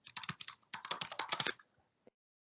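Quick bursts of key taps on a computer keyboard while entering text in an expression editor, two rapid clusters of clicks close up, then a lone final keystroke.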